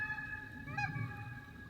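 Geese honking in a short burst during a goose hunt, with a few clear calls rising over steady low background noise, moderately distant.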